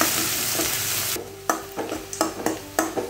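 Sliced onions hit hot oil with fennel and spices for potato kurma: a loud hissing burst that settles into a softer sizzle, punctuated by several close spoon scrapes and knocks against the pan.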